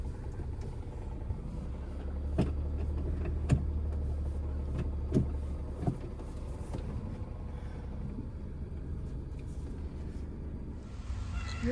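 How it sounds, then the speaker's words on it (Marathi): Inside a car driven slowly by a father practising as a learner driver, a steady low engine and road rumble continues throughout with a few faint clicks and knocks, and no voices. "बघा एवढी छान ड्राईव्ह करतायत पप्पा"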